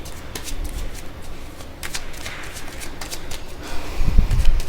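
Tarot cards are shuffled close by in quick, crisp riffling flicks that repeat irregularly, ending with a louder soft thump as the deck is handled.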